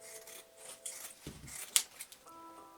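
Scissors cut through paper for a homemade unicorn headband, giving a few quiet, brief snips and rustles, one sharper close snip standing out, with no voices.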